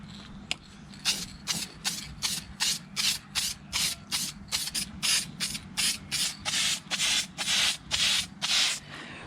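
Short, steady bursts of VHT vinyl dye in matte finish sprayed from an aerosol can onto dash parts, a regular run of hissing puffs that come closer together and grow slightly louder toward the end.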